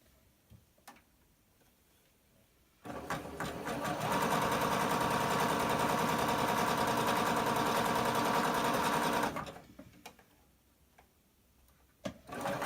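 A Butterick EB6100 sewing machine fitted with a cording foot runs steadily for about six seconds, a continuous close mechanical whir framed by quiet handling before and after.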